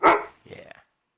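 A dog barks twice at close range indoors, one sharp loud bark followed by a softer, rougher second one, then silence.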